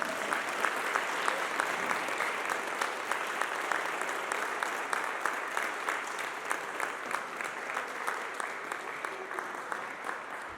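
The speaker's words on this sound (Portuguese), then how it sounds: "Vamos dar uma salva de palmas para Jesus?" Church congregation at an Easter service breaking into sustained applause, dense clapping that holds steady for the whole stretch, with a faint crowd murmur beneath.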